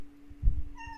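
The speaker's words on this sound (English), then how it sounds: "Oh, Kitty, I know you want out." A house cat meows to be let out: one short, fairly close call over a faint steady hum, with a thin tonal trace near the end.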